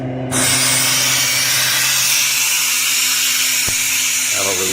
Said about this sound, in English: So we'll open this vent down here. That'll release